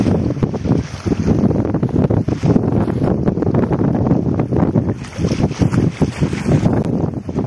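Strong sea breeze buffets the microphone at Parappanangadi beach, a continuous loud gusty roar with surf rumbling underneath and no voices.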